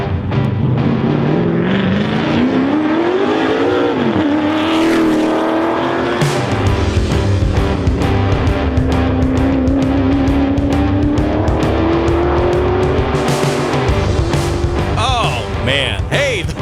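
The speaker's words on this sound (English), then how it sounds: "It's just a great sounding car ripping up that mountain" A race car engine screams loudly and continuously on a mountain hill climb, revving up and shifting as it climbs, with brief tire noise near the end.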